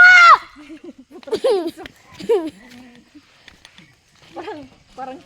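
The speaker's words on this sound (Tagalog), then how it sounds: "Parang tao na yung busis ng kambing." Goat bleating with an oddly human, voice-like quality: one loud wavering bleat at the start, then several shorter bleats spaced through the clip, fairly close.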